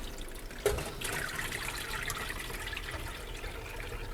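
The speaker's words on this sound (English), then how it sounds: "It isn't really pumping with any great gusto, but it is pumping, so it should get there." A Dyson CR01 washing machine's pump drains water weakly and steadily, a continuous close trickle and gurgle with one small knock near the start.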